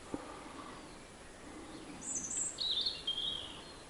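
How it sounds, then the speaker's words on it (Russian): Birds sing in spring taiga beside a river, several high, thin chirping phrases arriving late and faint over a quiet outdoor background. "А птицы-то как поют."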